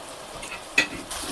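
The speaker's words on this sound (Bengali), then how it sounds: "মশলাটাকে সুন্দর করে কষাবো" Chili and cumin powder spices cook in a hot pan, giving a short soft sizzle with a brief spoon scrape at the centre, close and moderately loud.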